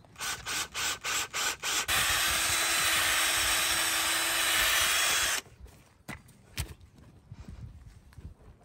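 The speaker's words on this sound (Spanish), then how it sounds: "Con el taladro." A power drill bores a planting hole in garden soil: a few short rhythmic bursts, then a steady loud whirring grind for several seconds that cuts off abruptly, leaving quiet outdoor rustling and small knocks.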